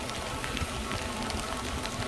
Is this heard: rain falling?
yes